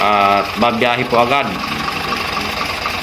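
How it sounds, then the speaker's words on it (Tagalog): A Weichai WP10 truck engine, freshly top-overhauled, runs at a steady idle with an even mechanical drone, loud and close, while someone talks over the start before the engine carries on alone. "umaandar na po ang ating makina"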